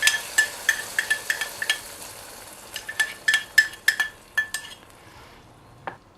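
Cashews and raisins are tipped into a pan of aval payasam and stirred in with a spoon, giving a run of close, sharp metallic clinks and scrapes against the pan, with pauses between bursts and no talking.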